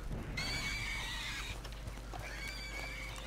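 A horse whinnies loudly and close by in two drawn-out neighs, the first long and quavering, the second shorter after a brief gap, over a steady low outdoor hum with no talking.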